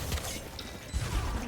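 Weapon reloading in Valorant, a short mechanical clatter of clicks and ratchet-like metal movements, fairly close and alone with no talk.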